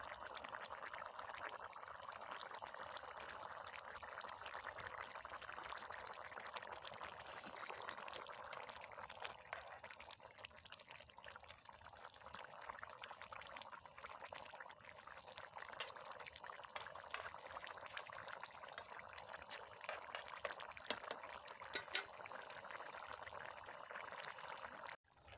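A pot of fish curry broth with tomato bubbles at a steady boil, a faint continuous hiss and seethe running unbroken throughout, with no voices.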